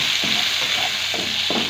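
Onions are added to hot oil with browned garlic, a steady close sizzle broken by a few soft stirring scrapes.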